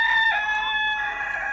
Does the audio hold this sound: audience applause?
no